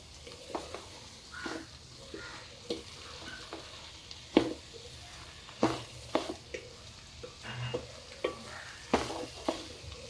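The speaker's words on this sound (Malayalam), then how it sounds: "ഇതിലേക്ക് നമ്മൾ കട്ട് ചെയ്ത് വെച്ച ഈത്തപ്പായ ഇട്ട് മിക്സ് ചെയ്ത് കൊടുക്കുക" Papaya and date pickle is stirred in a pan, with irregular scraping and squishing strokes over a faint sizzle and louder knocks at intervals, and no voices.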